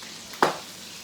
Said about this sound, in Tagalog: Ayan yung prito namin isda.